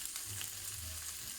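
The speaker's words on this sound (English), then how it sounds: "that's your onions frying away nicely" Onions fry in a pan with a steady, dense sizzle and crackle, close and continuous, with a faint low hum beneath and no talking.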